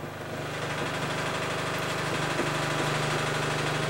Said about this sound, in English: Well, this time it's rattling the desk.